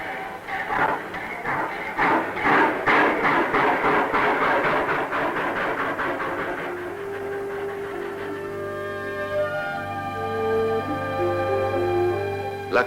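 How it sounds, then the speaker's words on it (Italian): The Stresa-Mottarone rack railway train runs along its track with rhythmic clickety-clack beats that give way to a droning, tonal engine hum, heard clearly without speech. "La cremagliera Stresa-Mottarone impiega 1 ora e 45 minuti a percorrere 10 chilometri."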